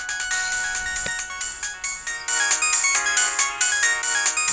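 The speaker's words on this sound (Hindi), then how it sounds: "वही फोन कर रही है उठा यार।" A mobile phone ringtone for an incoming call, a bright looping electronic melody of repeated chiming notes, loud and close, playing with no one speaking over it.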